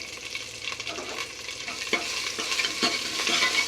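Loud, continuous sizzling of garlic tempering in hot oil, crackling and popping close by with intermittent stirring knocks.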